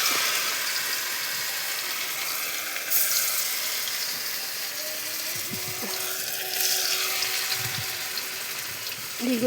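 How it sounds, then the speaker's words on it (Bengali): Pumpkin fritters sizzle in hot white oil in a kadai over a clay stove, a steady broadband crackle that runs throughout with a few soft clicks and knocks nearby, and no talking. "তেলটা গরম হলে বড়াটা দিয়ে দেবো।"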